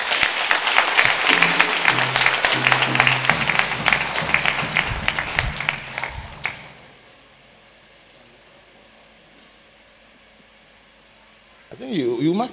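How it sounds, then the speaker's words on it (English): Dense applause from a church congregation gathered for an anniversary and dedication service in Akaatsi-Abor, loud and sustained for about six seconds with voices mixed in, then dropping to near silence before a brief burst of noise at the end. "Let us recognize him with a round of applause."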